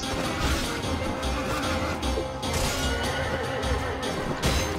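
Horse neighing in the video game Mount and Blade: Warband, loud shrill whinnies over a dense battle din of clashing and thuds, with no talk.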